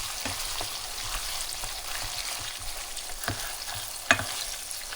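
Ground beef, 70-30 fat ratio, frying in a pan, a steady dense sizzle throughout with occasional faint clicks and scrapes of stirring, close and moderately loud, no talking.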